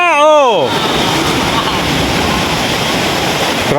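Large ocean waves crash and churn in a loud, continuous roar of surf at a beach. A voice calls out briefly at the start, then the heavy rushing water carries on alone.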